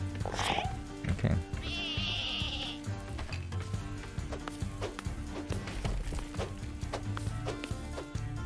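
Sheep bleat repeatedly in the lumberjack and sheep-herding game Lumberhill, several short cries over busy game sounds with a steady musical backdrop and some bursts of activity.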